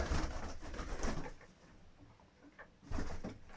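Budapest pigeons in a snowy loft give soft, low cooing amid muffled rustling and shuffling, fairly close and moderately loud.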